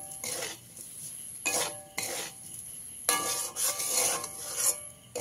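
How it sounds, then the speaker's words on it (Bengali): Semolina is stirred with water in a pan, rasping scrapes in repeated bursts with short pauses between them, close and fairly quiet, with no voices. "এইভাবে অল্প অল্প জল দিয়ে মিশাতে থাকবেন"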